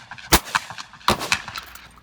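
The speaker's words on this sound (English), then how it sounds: "This is Anna shooting a pair with a Remington 1100 with cuts compensator" A Remington 1100 semi-automatic shotgun fitted with a Cutts compensator fires a pair: two sharp, loud blasts about three quarters of a second apart, each trailed by a short echo at an outdoor shooting range.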